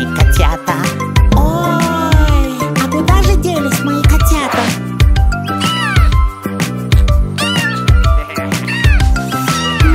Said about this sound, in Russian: Вот мои котята.